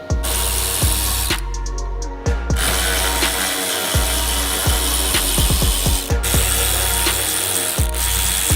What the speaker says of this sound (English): we have to unscrew all these bolts that we see under here